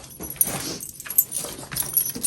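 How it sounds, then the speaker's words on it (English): A dog coaxed to sing gives short barking yelps and whimpering cries indoors, close and fairly loud, with faint clinking in the background. "That's barking."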